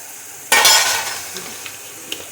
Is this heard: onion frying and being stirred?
yes